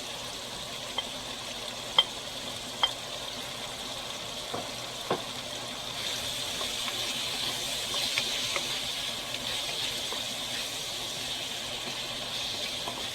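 Ginger sizzling as it is stir-fried in a pan for a chicken and mango dish, with a steady frying hiss and a few sharp pops and clicks of stirring early on, no talking.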